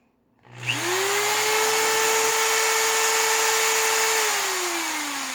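A power drill bores drainage holes in plastic buckets, its motor spinning up to a steady, loud whine that holds for several seconds before winding down at the end.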